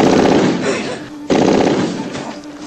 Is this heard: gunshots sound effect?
yes